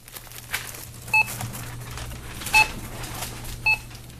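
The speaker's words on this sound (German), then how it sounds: "50 Milliarden Mal piepst es täglich auf der ganzen Welt, wenn ein Barcode von einem Scanner an der Kasse eingelesen wird" Three short electronic beeps sound at spaced intervals over a quiet, murmuring background, like items being scanned at a checkout.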